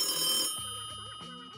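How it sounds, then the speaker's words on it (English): A telephone ringing with a bright electronic ring tone in a brief burst, followed by a short tonal melodic phrase, close and clear with no talk over it. "that means Tamia's gonna ring us on the phone"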